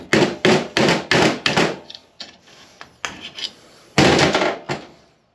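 Hammer blows drive a component out of a disassembled transmission, a rapid series of sharp metallic strikes followed by scattered lighter taps and another burst of heavy blows, close and loud.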